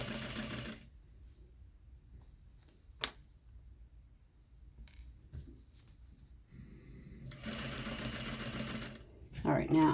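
Sewing machine stitching an invisible zipper into a pillow, running in short bursts with quiet pauses between, close by and steady while a person talks.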